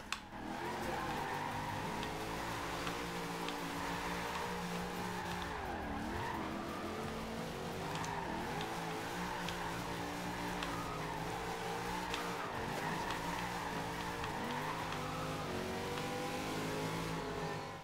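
A roaring car engine in Forza Horizon 2 echoing continuously through a tunnel, with revving swells and occasional tire squeals during drifting, steady and loud throughout.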